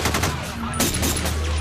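Gunfire from the North Hollywood shoot-out, a rapid burst of shots with one sharp crack partway through, heard over a steady background roar.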